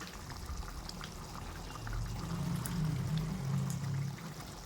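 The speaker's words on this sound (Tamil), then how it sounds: "எலுமிச்சம்பழம் சைஸ் புளி எடுத்து 1/2 லிட்டர் தண்ணியில் கரைச்சி இந்த டைமில் சேர்த்துக்கிறேன்." Tamarind water is poured into a pot of garlic curry, a soft steady trickle that swells into a fuller, lower gurgle partway through.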